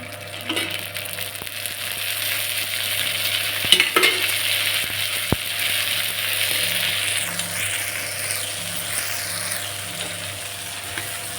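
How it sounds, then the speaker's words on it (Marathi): Boiled chickpeas fry in oil in a pan at home, giving a steady close sizzle with a few scrapes and clicks of stirring throughout and no voices. "त्याच्यात तेल टाकून घेऊ आपण हरभरे फ्राय करायचे आपल्याला"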